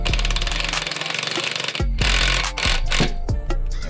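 A valve spring compressor works a spring on a Ford Coyote engine head being fitted with Boss 302R valve springs. A loud, dense rattling buzz runs steadily through the clip, broken by a short gap and several sharp metallic knocks.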